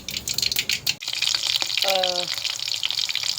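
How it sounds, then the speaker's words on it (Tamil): Sliced ginger and a single green chili sizzling in hot oil in a pan for mint chutney, a steady crackling fry with a sharp clink partway through and a faint voice in the background. "ஸோ இது நல்லா எண்ணெயில் வதங்கிட்டுருக்கு"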